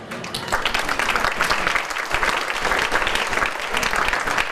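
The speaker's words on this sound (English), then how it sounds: "you need to applaud everybody in this room because this is a record turnout" A room of people gives a record turnout a round of applause, dense loud clapping that holds steady throughout with no voice over it.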